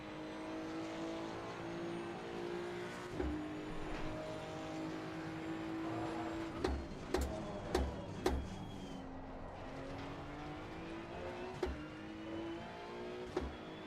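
Race car in Assetto Corsa Competizione lapping the Red Bull Ring: a continuous engine drone rising and falling through gear changes, with several sharp clicks and shifts, steady and close, no talk.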